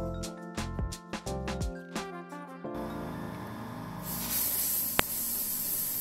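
Music plays at first, then a compressor-driven soda blaster hisses in a continuous loud spray against a Drexel wooden chest, close up and steady with no speech.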